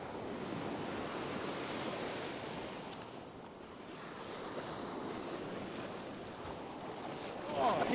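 Ocean waves break and wash along a fishing beach, a steady close roar of surf with gusty wind buffeting the microphone and a swell of water near the end.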